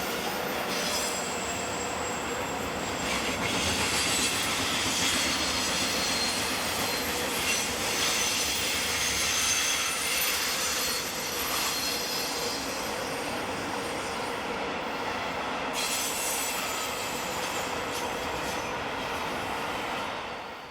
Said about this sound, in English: This pair of Class 465s nearly caught us out.